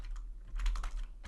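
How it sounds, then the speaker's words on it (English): Quick bursts of typing on a computer keyboard, light clustered key clicks close by and fairly quiet, with no speech. "So what I'll do is I'll type"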